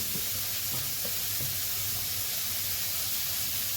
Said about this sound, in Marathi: ह्या सगळ्या आपण भाज्या ह्याच्यावर टाकूया आणि परतून घेऊया.